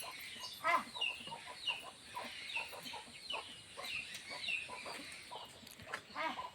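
Hens and their few-days-old chicks in a Konkan hill village (Dhangarwadi, Hardkhale) cluck and chirp steadily nearby, a busy run of short, overlapping calls with no voices.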